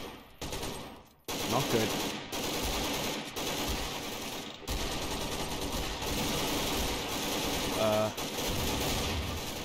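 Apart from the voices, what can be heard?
SWAT gunfire in Garry's Mod video game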